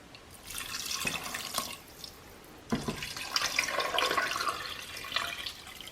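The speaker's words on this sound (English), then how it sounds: "I've added 6 cups of water." Water pours into a pot in two splashing streams with a short pause between them, close by and steady.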